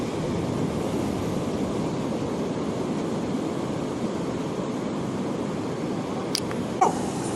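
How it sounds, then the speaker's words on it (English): Large ocean waves break along Calangute Beach in Goa, a steady, dense wash of surf noise that fills the whole stretch, with a faint brief chirp near the end. "There's very large ocean waves."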